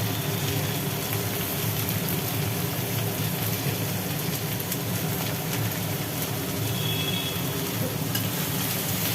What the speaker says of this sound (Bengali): হলুদ দিয়ে ভাজা আলু পেঁয়াজের সাথে ঝিঙেটাকে ভালো করে নাড়াচাড়া করে নেওয়া হলো